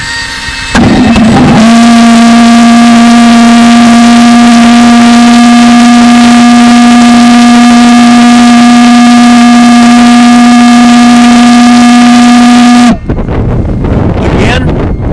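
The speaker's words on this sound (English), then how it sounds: "we turn our gas on, we get our blower ready, we're blowing air into the motor right now" A gas-fuelled valveless pulse engine being started with an air blower forcing air into it, heard as a loud, steady whining drone with a strong hum and overtones that runs for about eleven seconds, then cuts off abruptly into rougher noise.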